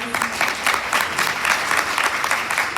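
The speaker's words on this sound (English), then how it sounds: "Would you give the candidates a round of applause?" Steady audience applause for the candidates at a mayoral debate in Ajax, a dense wash of clapping from a crowd, loud and continuous throughout.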